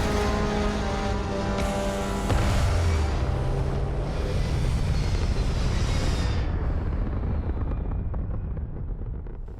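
A spaceship blasting off in the Starfield video game: a loud, steady engine roar and rumble that swells around the middle and then slowly fades toward the end, with no voices.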